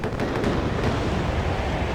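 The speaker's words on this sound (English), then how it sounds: "Cluster bomb." Cluster bomb detonations in the WARNO real-time strategy game form a dense, continuous rumble of crackling blasts with a few sharper bursts near the start, steady and loud throughout with no pauses.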